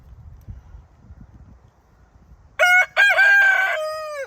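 Rooster crowing loudly and close after a few seconds of quiet low rustling: a short opening burst, then a long drawn-out cock-a-doodle-doo that trails off.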